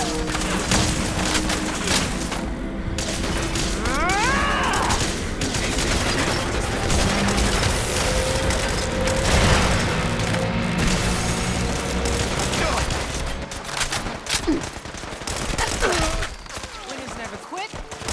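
Repeated gunfire from a Fallout 4 battle against gunners, with bursts and single shots crackling over an 18-second firefight, booms mixed in and voices talking throughout.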